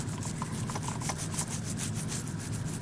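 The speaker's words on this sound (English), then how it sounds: "Dip a little bit here and we scrub." Close scrubbing of patina onto stained glass solder seams, a steady abrasive rubbing with faint rhythmic strokes that continues without a break and without talk.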